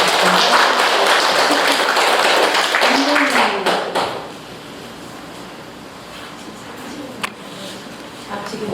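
Audience in a Buddhist temple hall breaking into loud, dense applause that lasts about four seconds before fading into quieter room noise with a single later clap.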